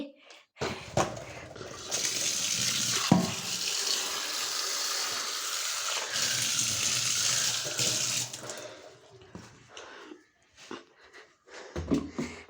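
Water runs from a tap into a pot being filled for boiling green mussels, a steady close gush for several seconds that then tapers into drips and light clatter.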